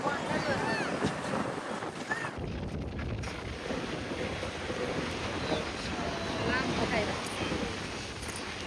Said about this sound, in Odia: ଏଇ ଯୋଉ ପବନଟା ବହୁତ ଜୋରେ ପବନ ହୁଏ